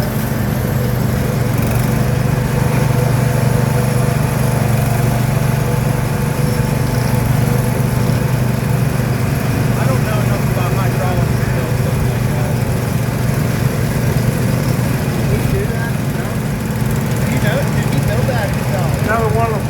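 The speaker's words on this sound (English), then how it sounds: "Another one of the fine workhorse chassis, workhorse tractors." A Wheel Horse garden tractor engine runs loud and steady at a collectors' club show, holding a constant low chugging drone with a lawn-mower-like buzz throughout and no break.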